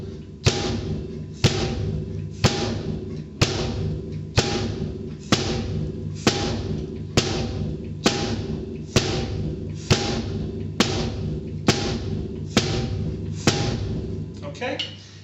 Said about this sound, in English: match our drumsticks hitting on the snare drum with our bass drum